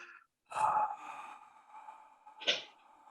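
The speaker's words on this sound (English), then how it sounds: "that special breathing they call Ujjayi breathing" A slow Ujjayi exhale pushed through a slightly restricted throat makes a soft, airy, wind-like hiss that swells briefly, fades into a quiet sustained tone, and ends with a second short breathy burst.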